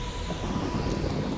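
Steady rain and rumbling thunder set the backdrop for a horror story about a woman driving alone on a rainy night road, a continuous dense wash with low rolling thunder, no voices.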